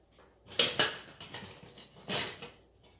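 Sugar, salt and nutmeg mixed together in a bowl of dry batter ingredients for corn dogs, a few short scraping clinks of a utensil against the bowl, close and brief, no talking.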